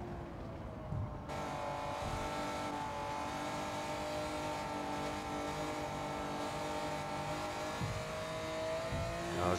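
A 1992 Honda NSX Type R race car in Gran Turismo 7 on the Tokyo Expressway, a sustained high engine drone revving through gears with brief tire squeal, steady and loud without talk.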